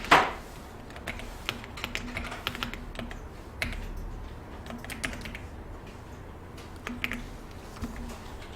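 Text is typed on a computer keyboard while working on an Excel pivot table. Steady, light clicking runs close by throughout, with a louder thump at the start, and no one talks over it.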